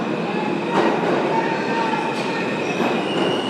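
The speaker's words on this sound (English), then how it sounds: "There's an R train." A New York City R subway train passing near, a loud rolling rumble with wheel squeal and metallic screeching, faint speech underneath.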